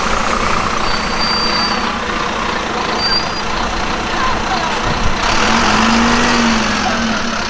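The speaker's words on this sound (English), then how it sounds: "It's really great when you're next to the engine and the driver just puts the foot down." A large diesel engine of a B90L bus roars close by in Brighton, a steady heavy rumble that swells as it accelerates, with background traffic noise.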